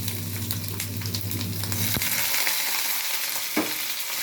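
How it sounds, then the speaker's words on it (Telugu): Ginger and green chillies frying in hot oil, a continuous crackling sizzle with steady texture, close and moderately loud, with a couple of sharp utensil knocks partway through and a low hum underneath. "ఇప్పుడు ఏగుతున్నాయి కదా, అల్లం పచ్చిమిర్చి వేసేసుకుందాం ఫ్రెండ్స్"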